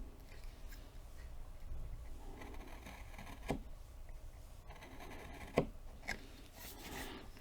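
A wood carving gouge cuts the philtrum on a carved Green Man face: quiet scraping and rubbing strokes, with a couple of sharper crisp cuts standing out, close and faint.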